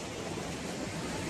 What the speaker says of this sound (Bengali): অনেক বড় বড় ঢেউ আসছে,